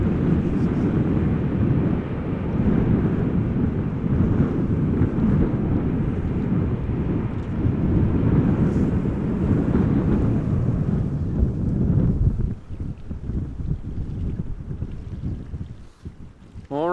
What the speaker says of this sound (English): the 737 used some reversers